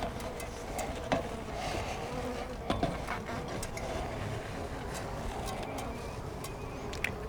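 Bees swarm around a hive during a bee removal job in Denver, Colorado, a steady dense buzzing with occasional sharp nearby fly-bys and faint background noise throughout.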